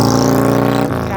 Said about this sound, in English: Gotta love those motorcycles.